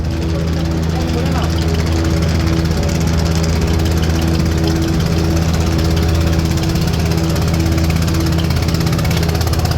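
Steady engine drone from the machinery aboard the Tipu 12 river launch on the Dhaka to Banaripara route, a loud, continuous low hum with tonal bands that persists throughout without letup.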